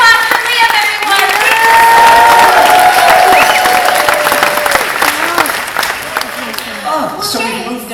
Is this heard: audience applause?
yes